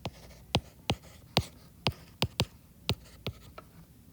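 Pen or marker on paper while working out algebra notes, a run of about ten sharp, separated taps and short strokes at an uneven rhythm, close and fairly clear against a quiet room, with no talking.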